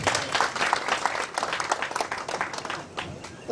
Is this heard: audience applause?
yes